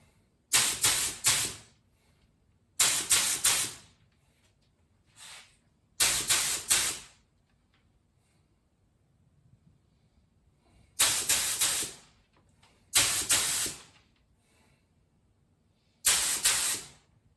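A paint spray gun hisses in short bursts while an old Jeep is being repainted. Six close, sharp blasts of about a second each are separated by quiet pauses, with one brief faint puff between them.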